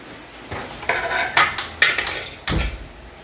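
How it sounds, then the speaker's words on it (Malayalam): An iron cheenchatti pan is set down on a stove with a few sharp metallic clanks and scrapes, then a heavier thud near the end, close and clear with no talking. "അപ്പോൾ ഞാൻ ചീൻചട്ടി വെച്ചിട്ടുണ്ട്."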